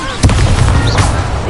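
A spell effect from the Hogwarts Legacy video game as the Accio summoning charm is cast: a short, loud burst with a low, booming body over a constant game background.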